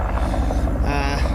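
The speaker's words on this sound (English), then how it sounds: "Excuse the helicopter noise, sorry guys" Helicopter flying nearby while fighting veld fires on a mountain, a continuous rhythmic rotor thump and engine drone, loud and steady throughout.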